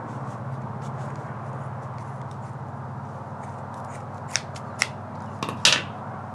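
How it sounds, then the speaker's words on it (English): A few sharp scissor snips cutting frayed cord ends near the end, crisp and close, over a steady low background hum. "I'm just going to take some scissors and cut off the ends."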